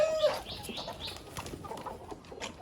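Chicken flock on a Vietnamese family farm clucking close by, with short repeated clucks, a brief squawk at the start and soft scratching movement.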